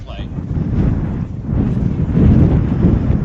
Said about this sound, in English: That wind really gusts up.